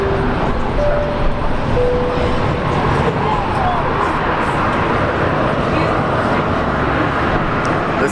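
An Air New Zealand airliner takes off from runway 19 left at Brisbane Airport, its steady broad jet roar heard at a distance, with a radio voice briefly speaking over it.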